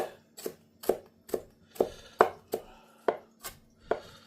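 A knife chops bok choy on a cutting board in about ten crisp, evenly spaced strikes, each a sharp close knock, heard alone without voices.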